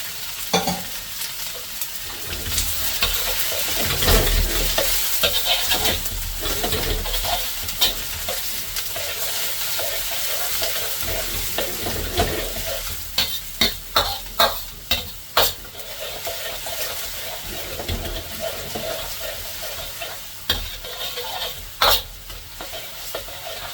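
Sliced onions fry in a hot pan with a steady sizzle, while a utensil stirs and scrapes through them in bursts of sharp clicks and knocks near the end, close and fairly loud with no voices.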